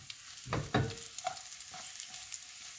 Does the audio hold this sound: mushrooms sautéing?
yes